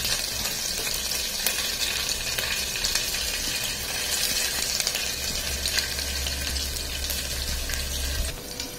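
Chopped garlic frying in very hot oil for dal, a steady loud sizzle that fills the clip from start to finish with no talking.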